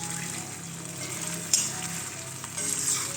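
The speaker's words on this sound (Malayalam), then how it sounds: "ഇനി ഇതിലേക്ക് നമ്മൾ ഫ്രൈ ചെയ്ത് വെച്ചിട്ടുള്ള നമ്മുടെ കോളിഫ്ലവർ ഇതിലേക്ക് ചേർത്ത് കൊടുക്കാം" Fried cauliflower florets being stirred into sauce in a cast iron kadai for restaurant-style gobi Manchurian, with a steady broad sizzle and a few brief scrapes and clinks of the spoon, close up.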